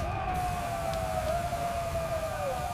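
A fire brigade siren in a Hindi cartoon wails with a continuous, slowly wavering tone, moderately distant and steady under a background hiss.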